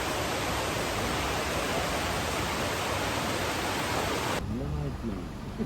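Steady, dense rain roars close by, a loud unbroken wash of noise that suddenly drops away near the end, leaving a faint murmur.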